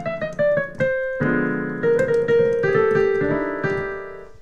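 A piano plays the opening of a song, with a run of quick single notes giving way to sustained chords and a flowing melody, clear and close with nothing else heard.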